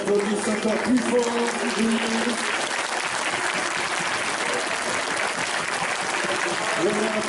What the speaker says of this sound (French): J'aimerais qu'on les applaudisse encore plus fort.